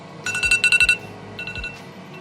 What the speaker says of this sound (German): Ah, mein iPhone klingelt.